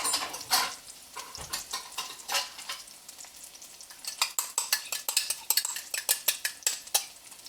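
An omelet cooks in a pan, with a soft sizzle under repeated clinks and scrapes of a utensil stirring against the pan, growing quicker and more rhythmic toward the end.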